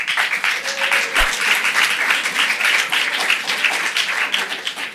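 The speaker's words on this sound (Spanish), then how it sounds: "Un aplauso para Pedro." Audience applause at a talk, dense steady clapping from a crowd filling the room continuously from start to finish, fairly loud and close with no voices over it.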